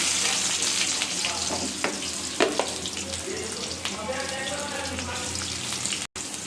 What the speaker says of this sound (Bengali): এই যে পেঁয়াজটা আমি ভেজে নিচ্ছি, এখন একটু নরম নরম হবে